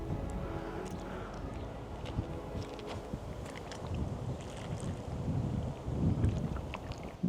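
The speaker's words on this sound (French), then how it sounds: "il y a un petit peu trop de vent à mon goût" Wind blows steadily outdoors, buffeting the microphone with a continuous low rumble that swells and gusts harder toward the end.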